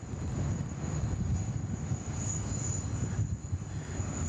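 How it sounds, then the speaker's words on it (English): A Qantas Airbus A380 departing Sydney Airport makes a sustained deep engine roar with a thin high whine on top, steady and moderately distant, with light wind buffeting on the microphone. "2 Qantas A380 departures"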